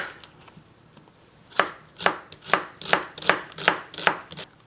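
A knife chops through onion on a cutting board for yogurt kebabs. A few soft sounds come first, then about eight crisp, evenly spaced chops ring out up close, with no talking.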